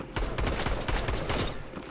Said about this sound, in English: I'm getting shot at from behind now.